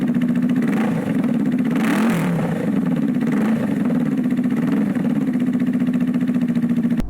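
A Honda Rebel 500 motorcycle engine idles and revs steadily up close, giving a smooth, even drone with a brief rise in throttle early on and no talk.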